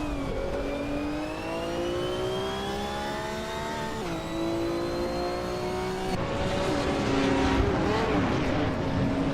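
A 1969 Lola T260 race car in a racing video game, its engine whining steadily through rising and falling gear changes, with other cars roaring close by toward the end.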